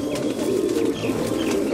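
Domestic pigeons kept for pigeon flying in Majha, Punjab coo continuously and close by, a low, steady murmur with no talk.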